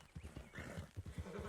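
A mule in the video game Red Dead Redemption makes soft snorting, clopping animal sounds, a quick uneven rhythm of low thuds under faint background noise.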